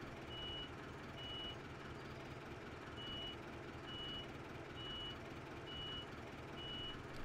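A modded Fendt Farmer 310/312 LSA tractor in a farming game sounds its hazard warning, a steady string of short, high, evenly spaced beeps over a constant low engine drone.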